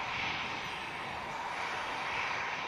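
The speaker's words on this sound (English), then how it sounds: "And now we've got an EasyJet" An EasyJet airliner's engines at Manchester Airport give a steady, moderate whine-tinged roar that holds evenly across the moment.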